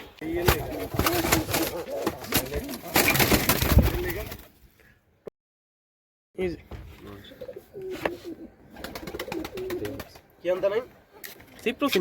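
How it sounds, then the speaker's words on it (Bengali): Pigeons coo in soft, repeated low calls, close by, with people talking over and between them and a brief quiet gap midway. "এখানে দুইটা কৌতর রাখছি"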